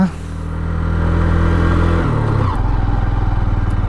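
A Honda Shine 125cc motorcycle labours uphill in first gear on a high mountain road toward Umling La, Ladakh, with a steady close engine drone that dips in pitch briefly near the end.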